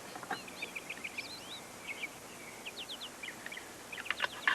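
Small birds chirp outdoors on the open prairie, a scatter of quick, high tweets and trills at moderate distance, coming in irregular bursts with no talking.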